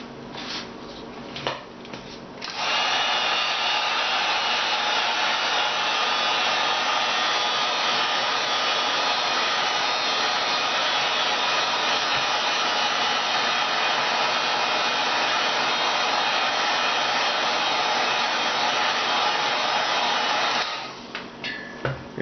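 A heat gun blows hot air over a precut EVA foam boot piece to soften and curve it, a loud, steady close-up rushing hiss that runs for about eighteen seconds between brief handling clicks.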